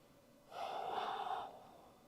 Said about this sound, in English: just a few breaths here.